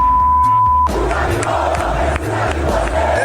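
Flamengo fans chanting loudly at a Libertadores title celebration, a dense roaring crowd with rhythmic pulsing chants and a steady low beat underneath, continuous throughout.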